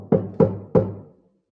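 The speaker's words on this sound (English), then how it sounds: "However, before she could do that, there was a knock on her door." Three firm knocks on a door, close and loud, evenly spaced with short resonant thuds that fade quickly, then silence.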